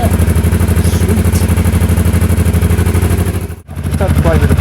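An Aprilia Shiver motorcycle engine runs loud and close with a rhythmic, clattering pulse. It dips sharply for a moment near the end, as if blipped off, then picks straight back up to a steady throb.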